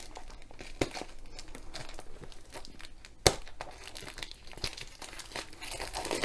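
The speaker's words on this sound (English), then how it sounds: "Just want to cut the cellophane, don't want to cut the box." Cellophane wrap being cut and peeled off a boxed diamond painting kit: close crinkling and tearing plastic with scattered sharp crackles and one loud snap midway, no voices.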